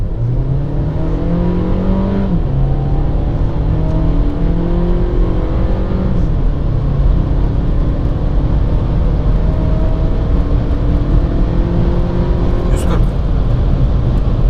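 A 1.4 TSI DSG car with a software tune accelerates hard, engine note rising through the gears with clear shift dips, heard from inside the cabin over steady road noise.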